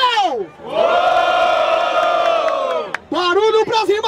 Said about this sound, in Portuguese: Barulho pras rimas do Refel!